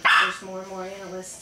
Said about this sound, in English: if you hear this barking, it's our little Yorkies